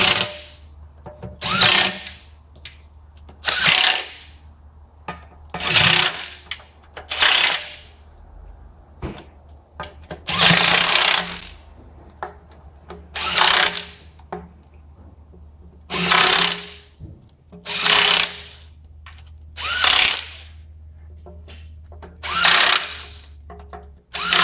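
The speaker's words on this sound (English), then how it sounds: "Now it's time to tighten up all of our bolts." Bursts of a power driver tightening the transmission pan bolts on a 2005 Dodge Ram 2500, about a dozen short whirring runs separated by brief pauses, close and loud with no talk.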